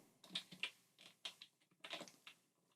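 Several short bursts of keystrokes on a computer keyboard as a project name is typed, clustered taps with brief pauses, close and fairly quiet, no talking.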